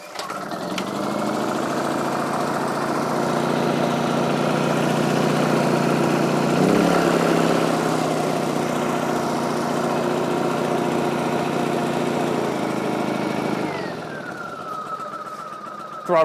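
Honda EU2000i inverter generator with a sticky throttle valve, its engine running steadily and loudly for most of the clip with an even droning hum, then easing down near the end.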